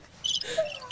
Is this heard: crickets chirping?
yes